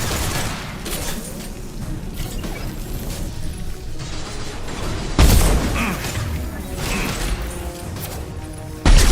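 Concussive shots and combat blasts ring out in Mass Effect 2, with sharp impacts and crashes over a busy battle din, including two loud close bursts.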